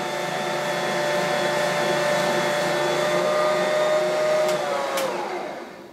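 A Bosch Universal Plus stand mixer drives a Nutrimill spiralizer attachment through vegetables, giving a loud steady motor whine with a high tonal hum that holds for several seconds, then winds down and fades at the end.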